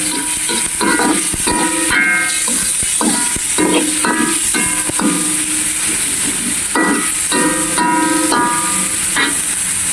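Onions and garlic sizzle in a pan as stir-fry ingredients go in, a steady loud hiss broken by clinks and scrapes of stirring, with short bursts of tonal clatter.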